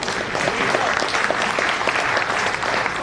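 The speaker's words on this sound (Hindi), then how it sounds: "बजिए ताली" Audience at a Hindi comedy and poetry show in Mumbai bursting into sustained applause, a steady dense roar of claps throughout, fairly loud with faint crowd murmur.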